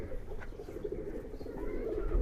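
A Giribaz pigeon coos softly in a steady, low murmur, close by and moderately quiet, with a faint rise toward the end.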